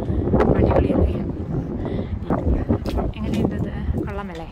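Wind gusting outdoors in front of a house in the UK rumbles and buffets the microphone while a person talks over it.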